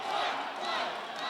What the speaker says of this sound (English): The crowd is chanting fight.